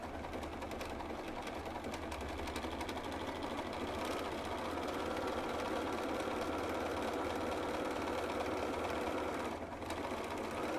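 A sewing machine stitching the ruffled edge of a blanket runs as a continuous, even mechanical whir and rattle, close and steady for the whole stretch, with no talking over it.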